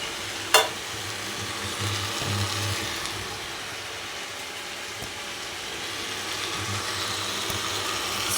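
Potatoes are stirred into pulao in a pan, with a steady sizzle and soft scraping throughout and one sharp knock near the start, heard close with no talking.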